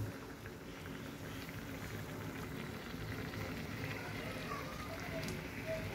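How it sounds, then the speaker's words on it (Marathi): A pot of fish curry simmers at a boil, giving a steady low bubbling and gentle crackle, close and even throughout with no talk. "आता चांगला कड आला आहे बघा, त्यामध्ये मच्छी सोडायची आता"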